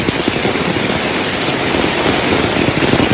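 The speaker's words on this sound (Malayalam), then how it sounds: "ഭയങ്കര മഴ എന്ന് പറഞ്ഞാൽ ഭയങ്കര മഴ" Heavy downpour outdoors, a dense, loud, continuous roar of rain drumming steadily across the whole stretch with no break and no voices.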